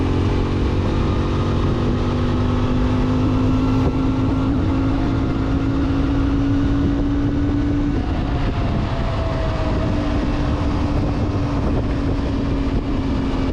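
A CFMoto 450MT motorcycle engine drones loudly and continuously while pulling uphill in sixth gear on a mountain road, with a steady rising engine note under constant wind rush.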